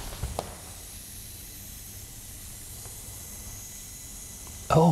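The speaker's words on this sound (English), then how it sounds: "Oh, this thing's kind of leaking gas." Inside an abandoned school, gas or steam leaks with a faint, continuous hiss that runs steadily for several seconds before a sudden louder burst of noise at the end.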